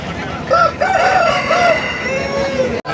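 A rooster crows loudly and close at a busy weekly hen market in Pileru, with one long, wavering call over steady market background noise.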